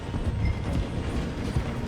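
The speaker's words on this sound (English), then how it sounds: "The train is slowing down to go through the station." A train rumbles and clatters as it slows through a station in Red Dead Redemption 2, a dense, continuous low mechanical roll of wheels and carriages heard up close.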